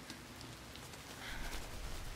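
Rain falls steadily on surfaces nearby, a soft continuous patter with scattered drops that grows slightly louder toward the end.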